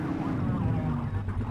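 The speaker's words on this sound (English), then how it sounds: "Get behind them and blip the siren and make them pull over." Police car siren sounding in the video game The Precinct, a short wavering electronic wail that is loud and close, heard alone with no talking.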